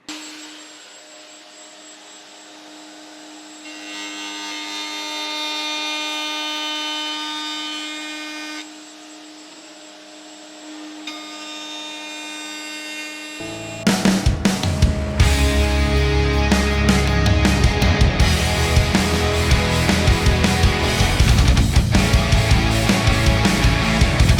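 Router cutting wood on a scratch-built guitar: a steady high motor whine runs first, then a loud, dense, grinding cut takes over and holds to the end.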